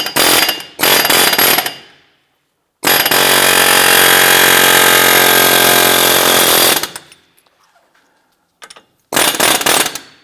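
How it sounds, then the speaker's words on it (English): Pneumatic air hammer driving a stuck CV axle shaft out of the front wheel hub on a 2006-2011 Cadillac DTS: loud, close rapid hammering in several bursts, one long sustained run, separated by silent pauses. "we're going to use an air hammer here or punch to go ahead and loosen this out"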